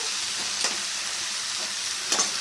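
Moong dal, about eighty percent boiled and drained, frying in a pan with spices for fish-head moong dal; a dense, steady hiss of sizzling with two brief scraping stirs.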